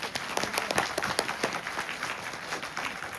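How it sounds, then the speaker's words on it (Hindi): An audience at a seminar gives loud applause, a continuous patter of many hands clapping at moderate distance with no talk over it. "अगर नहीं है तो एक बार जोरदार तालियां हो जाए।"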